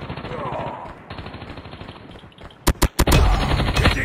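A deployed sentry gun in a war video game fires three sharp, loud shots in quick succession near the end, after game sounds and a speaking voice.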